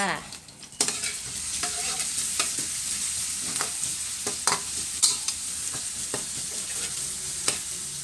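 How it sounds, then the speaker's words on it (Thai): Steady hiss of chili and garlic stir-frying in hot oil, with repeated scraping and clinking strokes of a spatula against the pan, no voices. "ผัดพริกกระเทียมให้หอมจ้า"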